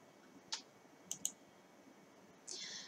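A computer mouse clicks sharply and close while a red-eye correction button is selected in photo-editing software: one click, then a quick double click, then a longer faint clicking rattle, all in a quiet room.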